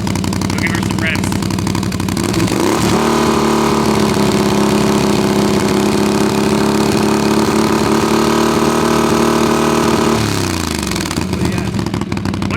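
Can-Am Outlander 850 XMR ATV fitted with an MBRP exhaust, revving up from idle to a loud sustained high-rpm drone for several seconds before dropping back, recorded close to the exhaust with voices around it.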